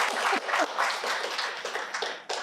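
Audience applause at a cardiothoracic surgery conference in London, a steady patter of many hands clapping with uneven bursts, moderately loud and continuous, ending with a brief sharp flurry.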